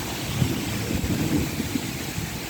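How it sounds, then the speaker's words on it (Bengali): Strong storm wind with heavy rain produces a continuous roaring rush and low rumbling buffets against the microphone, steady and loud, without clear voices. "বৃষ্টির সাথে যে বাতাস দেখছেন, বাতাস, অনেক বাতাস, বৃষ্টির সাথে বাতাস।"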